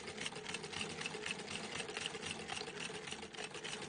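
An antique hand-crank sewing machine stitches with a quick, even mechanical clatter, continuous and close throughout.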